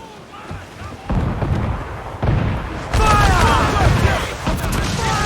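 Ship cannons firing in the pirate game Assassin's Creed IV Black Flag, a series of loud booming blasts and rumbling volleys layered over shouting crew voices and battle noise.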